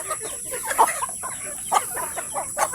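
Chickens and roosters cluck in short, scattered bursts over a faint steady hiss, no talking.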